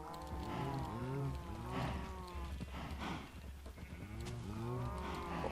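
Several Minecraft cows moo repeatedly as they are pushed into a hole, their drawn-out calls overlapping in steady waves over a constant low game hum, with no talking.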